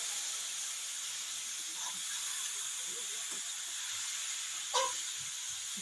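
Cooked jackfruit pieces frying in a pan give a steady, quiet hiss with faint crackles and one brief louder pop near the end.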